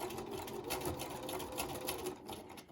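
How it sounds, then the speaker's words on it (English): A home sewing machine runs steadily as it stitches across fabric and then backstitches, a continuous mechanical whirr with rapid needle ticking, fairly quiet and close. "I'm going to sew 1/3 across. Now I'm going to backstitch to hold that."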